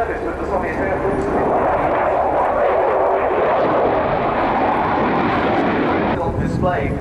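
Sukhoi Su-27 fighter jet of the Ukrainian Air Force at the Royal International Air Tattoo 2018, a loud sustained engine roar across the whole clip, with faint talk in the background.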